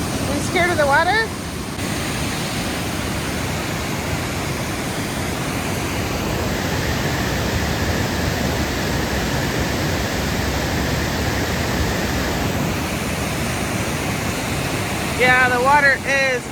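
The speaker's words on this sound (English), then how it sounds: "Yeah, the water is raging, guys." A raging winter waterfall in Oregon roars as a dense, constant broadband rush, loud and continuous throughout, with a brief voice near the start and end.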